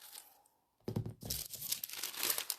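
Close, crisp tearing and crinkling as fusible interfacing without paper backing is roughly cut into a circle, starting after a brief pause and continuing in quick rustling snips.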